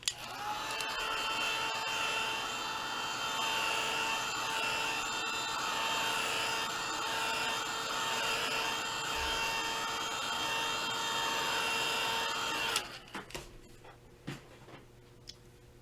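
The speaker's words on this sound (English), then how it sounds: "So I'm going to give it a quick dry with my heat tool." A handheld heat tool blows steadily while drying paint on a craft pine tree painting, a constant close whirring roar for about thirteen seconds before it switches off and a few faint knocks follow.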